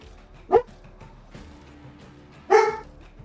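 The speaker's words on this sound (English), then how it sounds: "Dog's upset at something." Two loud, sharp dog barks in the tactical game Door Kickers 2, spaced about two seconds apart, over a faint background with no talking.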